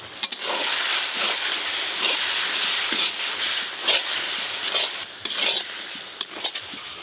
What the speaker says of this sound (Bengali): গুঁড়ো মশলা কষতে তো খুব বেশি সময় লাগে না